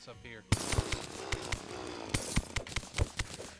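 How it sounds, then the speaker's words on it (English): A drill chews through ore while mining in the Terraria video game, a harsh buzzing grind broken by sharp repeated impacts, with people talking over it. "See, you and your drill."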